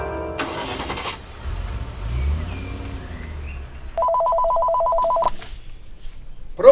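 A telephone rings once in a steady electronic burst over a low rumble of background noise. It is clear and fairly loud, and no one speaks.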